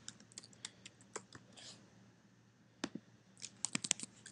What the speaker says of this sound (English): to get square root, I just type the letters S and Q